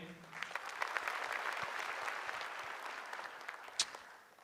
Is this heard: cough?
no